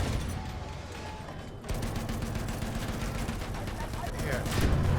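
Tank guns fire in Battlefield 1 in bursts of rapid, crackling gunfire over steady battle noise, with a sharp rise in intensity partway through and a voice speaking over it.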